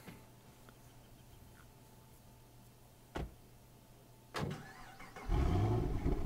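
In the video game A Way Out, a car starts up and pulls away: quiet idle hum, a couple of sharp clunks, then the engine swells loud and rough as the vehicle drives off at the end.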